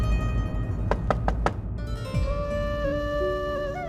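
Four quick, sharp knocks on a door ring out over a tense television drama score, followed by sustained music with no speech.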